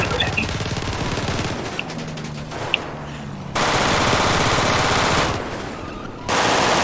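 Gunfire from a vehicle in GTA 5 during a police SWAT scene: rapid automatic bursts crackle loudly and close. They stop and start in short stretches, with engine and road noise running beneath.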